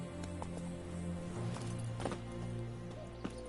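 Hooves of the horse Roach galloping in The Witcher 3, a soft steady clip-clop rhythm beneath a low ambient game drone, faint and fairly even, with no talking.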